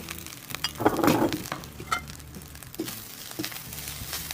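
Leftover rice stirred into a pan of frying garlic masala paste for garlic thokku rice: a continuous close sizzle with a rustling burst of stirring and occasional spoon scrapes; no talking.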